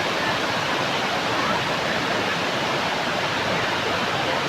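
Irappinkoottam waterfall in Kollam, a steady broadband roar of falling water that holds loud and even throughout with no voices over it.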